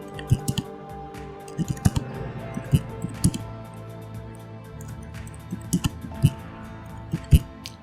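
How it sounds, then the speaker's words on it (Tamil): Irregular clicks and taps of a computer keyboard being typed on, close and fairly quiet, scattered in small bursts over a soft background hum with no talking. "Ctrl+P வந்து நான் கீபோர்டில் டைப் பண்ணிக்கிறேன்."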